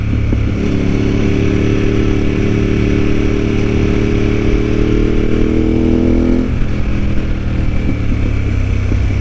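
A Ducati 748R motorcycle engine drones loud and steady while riding, a deep rumbling tone that holds under strong wind noise, then drops in pitch partway through as the throttle eases.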